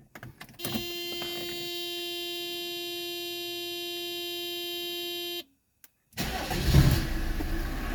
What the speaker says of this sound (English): now let's go crank the car and we'll make sure the AC compressor correctly kicks on